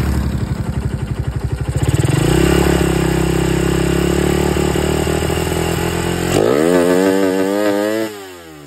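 A carburetted motorcycle engine running rich, fitted with a dB killer, revs hard and holds at high throttle, a loud, raspy roar that climbs, sustains, then drops and rises again before cutting off.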